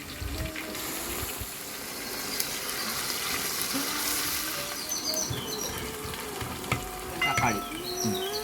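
Cardamom, onion, fenugreek and garlic paste sizzle and fry in a pan for mutton ball jeeraka kanji, with steady frying hiss, stirring scrapes and a few clinks of a utensil against the pan.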